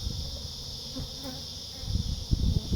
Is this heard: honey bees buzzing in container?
yes